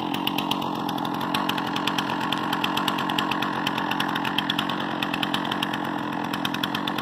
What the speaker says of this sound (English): a little bit of chainsaw milling today